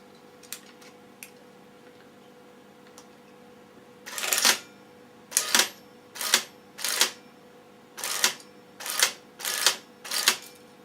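A Bolex 16mm film camera runs film through in a series of about eight short mechanical whirring bursts, close and fairly quiet, with brief ticks before them and no talk.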